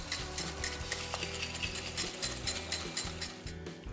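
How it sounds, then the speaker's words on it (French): Softened butter being mixed with caster sugar in a bowl for a tulip biscuit batter, a steady close mechanical whirring with rhythmic ticking, like an electric mixer beating, continuous with no talk. "je lui ajoute le sucre semoule et je mélange bien l'ensemble"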